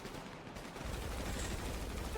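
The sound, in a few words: gunshots in a video game roleplay police chase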